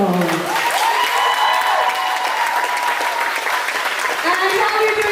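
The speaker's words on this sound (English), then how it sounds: "I think you need to give your coaches a huge round of applause" Loud, sustained applause with some cheering for the coaches at a junior inter-county swimming gala between Orkney and Shetland, a dense wash of clapping filling the hall for several seconds, with voices audible beneath it.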